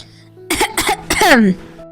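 A few quick, throaty coughs in a row, close and fairly loud, trailing into a short rasping clear of the throat.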